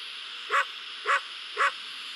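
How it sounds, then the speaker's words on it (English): Three evenly spaced barks from a dog in the Endless Nightmare horror game, each short and moderately loud over a quiet hum of background ambience, with no talking. "Stop giving me away, dog."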